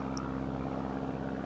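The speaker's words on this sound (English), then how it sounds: "Just wait for that plane to pass over." A propeller airplane passing overhead makes a steady droning rumble, continuous and moderately loud throughout, heard outdoors on a countryside walk between Amberley and Arundel.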